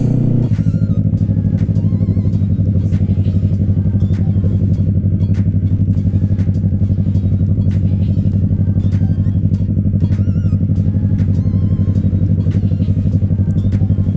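Motorcycle engine droning steadily and loudly throughout a group ride, close-up constant rumble with wind buffeting and faint clattering, no pauses.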